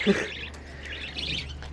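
Young budgerigars chirp faintly and briefly, with a couple of soft high peeps near the start followed by quieter twittering, over a low steady hum.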